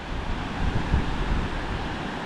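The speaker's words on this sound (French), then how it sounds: "mais bon, il y a un peu de vent." Wind gusting across a beach at Playa La Fortuna in Cabo, a steady broadband rush with some low rumble from surf, moderately loud and continuous with no voices.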